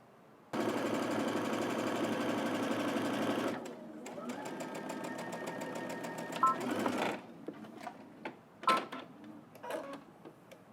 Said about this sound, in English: we're going to head to the machine and we're going to stitch across this end here using 5/8 of an inch seam allowance